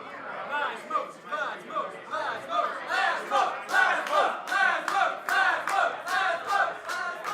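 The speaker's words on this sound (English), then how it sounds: "they're chanting Lasmos, which is a play on their favorite local Mexican restaurant" A large crowd at a Killer Queen arcade tournament in Chicago chants in loud rhythmic unison, with the beat of the chant growing stronger and more regular over time.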